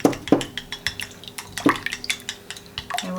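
Milk and an egg being whisked together for a pastry egg wash, with rapid light clinks and scrapes of a utensil against a bowl, close and fairly loud, continuing steadily without talk.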